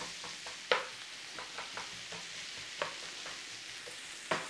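Onions softening in a pan for a butter pasty, a low quiet sizzle broken by a handful of sharp scrapes and taps from stirring, no talking.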